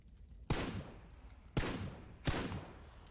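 Three sharp gunshots ring out in a PUBG match on console, each a loud crack with a short rumbling tail, spaced about a second apart, with no talk over them.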